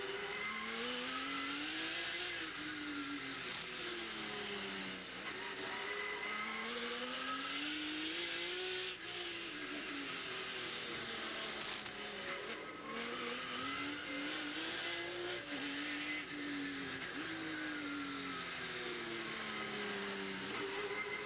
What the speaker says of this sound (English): sound of a lap at Des Moines.